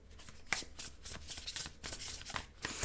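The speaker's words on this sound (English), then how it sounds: "if I can shuffle these. My goodness, it's a hard shuffle." A deck of tarot cards being shuffled by hand, with a run of quick riffling bursts and soft slaps in an uneven rhythm, close and fairly quiet, with no talk.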